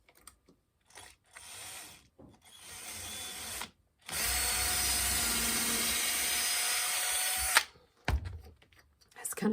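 A power drill with a 1/16 bit bores into a small piece of wood, one short burst and then a sustained whirring run of several seconds, close and loud.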